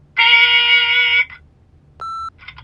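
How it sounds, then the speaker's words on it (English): An answering machine in The Wolf Among Us video game gives a loud, steady electronic tone lasting about a second, then a shorter pure beep after a pause, clean and close. "leave a message at the beep and we'll get back to you as soon as"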